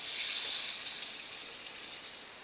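Beaten egg seasoned with salt and black pepper pours into a hot pan for egg fried rice, making a loud, continuous hiss that is close and alone and eases off slightly.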